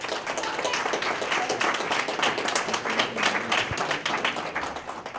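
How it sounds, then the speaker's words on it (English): A sustained round of applause from an audience, steady dense clapping throughout with no voices over it. "Please give a round of applause for Commissioner Leslie Les Miller."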